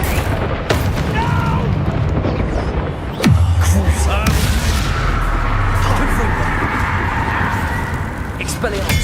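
A Bombarda spell blast in Hogwarts Legacy: a sudden deep booming explosion strikes partway through, followed by a rumbling low tail under a steady wash of game noise and combat sounds.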